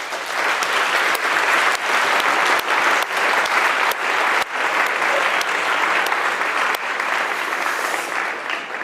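An audience at a university game programming lab's final presentation evening applauds after a student game is shown, sustained clapping for several seconds with a few sharper individual claps standing out.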